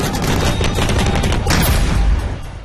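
Explosions and heavy gunfire from a joint army, navy and air force exercise on a firing range, a dense continuous roar of overlapping blasts and bursts, loud and unbroken.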